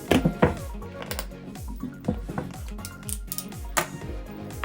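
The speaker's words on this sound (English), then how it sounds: "I'm just going to make a hole in the side of this container" A box cutter punctures and saws into the side of a plastic container, producing a run of crisp, irregular clicks and scraping cuts up close, with no talking.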